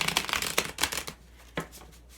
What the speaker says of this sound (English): I'm going to go ahead and pull some oracle cards too on this